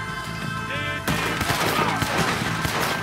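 Rapid rifle gunfire in the Western video game Red Dead Redemption 2, a dense volley of loud cracks bursting in after a quieter start and continuing steadily over game music.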